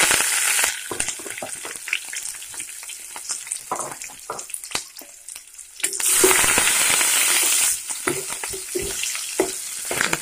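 Green chilies, onion and curry leaves fry in hot oil for an eggplant curry, a loud, close sizzle with dense crackling spatters that swells into a stronger hiss partway through, no talking.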